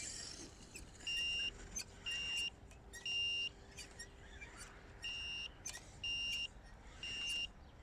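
Corally Triton brushed RC car giving off repeated electronic beeps, seven evenly spaced high bleeps roughly a second apart over faint outdoor background.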